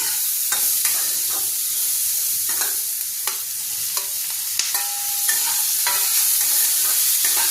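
Ginger garlic paste fries lightly in a pan for Bengali-style chicken butter masala, giving a steady close sizzle broken by frequent scraping stirs and clinks of a spoon against the metal, with no talking.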